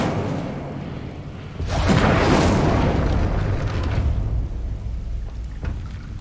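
The Incendio fire spell cast in the Hogwarts Legacy video game: a sudden loud whooshing burst of flame that swells and rumbles for several seconds before slowly fading, with no talk over it.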